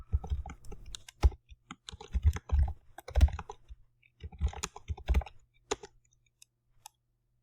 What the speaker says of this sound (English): Let's type the name,